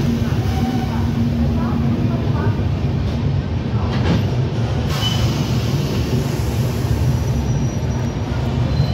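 The Bikaner-Kolkata Pratap Superfast rumbles through Prayagraj Junction with a steady, loud rolling roar and faint wheel clatter, heard from on board. A voice talks over the train noise.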